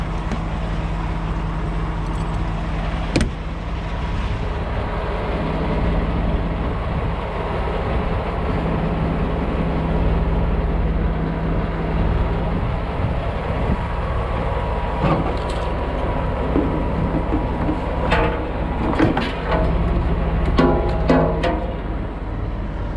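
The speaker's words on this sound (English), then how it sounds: "come on, let's go hook this trailer" A semi truck idles with a steady low diesel rumble while a trailer is unhooked and hooked up, with a few sharp metallic clanks and knocks scattered over the drone.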